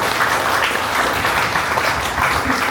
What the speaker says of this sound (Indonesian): Beri tepukan untuk Anda semua.